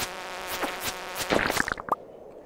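Insect buzzing from bees in the farming video game Stardew Valley, a close wavering drone that turns into rapid erratic buzzes and blips before cutting off.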